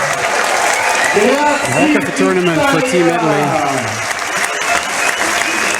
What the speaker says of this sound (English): Standing ovation from the entire stadium as they roll out of the dugout and onto the field